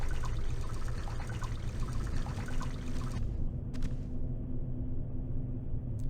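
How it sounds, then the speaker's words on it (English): Water runs steadily from a faucet in the video game Dark Shadows, a continuous close pouring stream that thins partway through with brief higher splashes. "Use an empty bottle on a functional water faucet."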